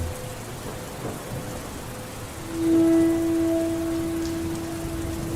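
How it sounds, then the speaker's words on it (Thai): Rain begins to fall in an Unreal Engine 4 short film, a soft steady hiss of drops under a faint low rumble, with a brief tonal hum joining partway through. "ฝนกลับได้เริ่มตกลงมา"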